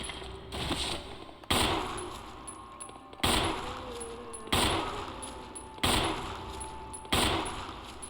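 Six heavy gunshots in a survival horror game, spaced about a second and a half apart, each a loud sharp blast with a ringing decay and a faint metallic clink between shots.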